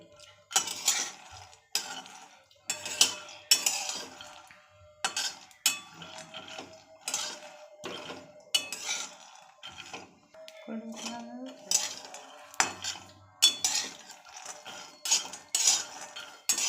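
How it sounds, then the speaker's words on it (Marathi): Peanuts being dry-roasted in a pan for laddoos, heard as irregular bursts of metallic scraping, rattling and clinking as they are stirred, with quiet gaps between strokes. "शेंगदाणे भाजून घेऊया आपण।"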